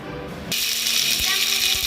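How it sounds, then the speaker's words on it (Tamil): An electric mixer grinder starts abruptly and runs steadily, grinding a load of roasted dried red chillies with a loud, continuous whirring buzz and some rattling of the jar, close by with no talk. "இப்போ ஆற விட்டு அரைச்சி எடுத்துக்கலாம் மிக்சியில் போட்டாச்சு"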